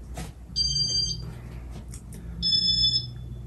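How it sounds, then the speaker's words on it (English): The control board of a Casablanca Venus ceiling fan gives two sharp, high electronic beeps about two seconds apart, each lasting roughly half a second, clear over a low room hum. "And the beeps on this board is quite loud"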